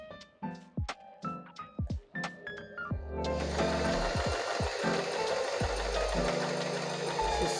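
A new Butterfly sewing machine starts with a few separate mechanical clicks and knocks. It then runs steadily under its own drive, giving a close, continuous whirring and rattling hum that carries on to the end.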